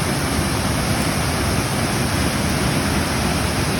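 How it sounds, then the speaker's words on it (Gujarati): Continuous heavy rush of water from Paniyari waterfall beside the Danta–Palanpur highway in North Gujarat, a full, even roar heard up close without a break or any talking. "વાહ કેવો સરસ મજાનો ધોધ પડી રહ્યો છે"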